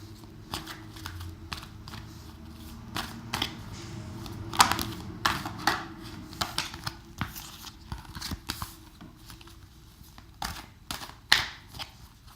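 Tarot cards being shuffled by hand, a rapid series of crisp riffling clicks and soft slaps in irregular bursts, close and fairly quiet, with no talking.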